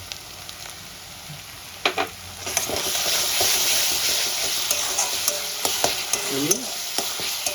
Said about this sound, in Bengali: এবার আদা রসুন কাঁচা লঙ্কাটা আমি ভালো করে কষিয়ে নেব